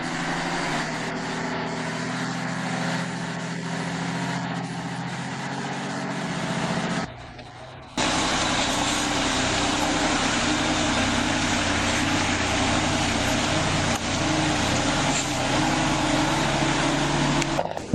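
Heavy log trucks roll up at a steam-powered sawmill, a loud continuous engine rumble and drone that briefly drops away near seven seconds before surging back and holding steady to the end, with no talk.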